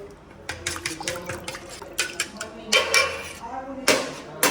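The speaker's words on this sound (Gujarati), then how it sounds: "ચમચીથી આપણે હલાવી દઈશું" A spoon stirs water in a glass for a mango drink, giving a quick run of close, bright clinks and taps against the glass, with a few louder knocks toward the end.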